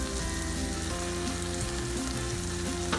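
Tuna, beaten eggs and tomato fry in a pan with salt and pepper, giving a loud, steady sizzle and crackle that fills the whole stretch, with no one speaking.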